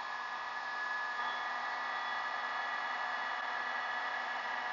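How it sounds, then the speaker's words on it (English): A heat gun blows hot air over fiberglass resin on a Lamborghini Countach replica body, a steady close whooshing hiss with a faint whine, with no other sounds. "So I'm going to go ahead and take a heat gun to speed up the drying process"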